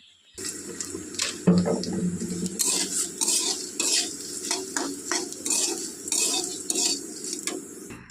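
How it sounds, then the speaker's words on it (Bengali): Puffed rice roasting in a hot pan, a busy crackling rustle broken by repeated sharp scraping strokes of a spoon or spatula, loud and close throughout. "চলো মুড়িগুলো আমি ভেজে নিই"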